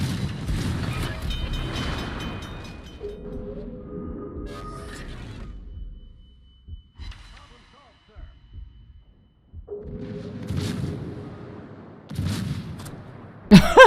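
Warship guns fire during a World of Warships battle, with heavy booming salvos near the start and again later, separated by a quiet stretch, and game voice announcements and other sounds in between.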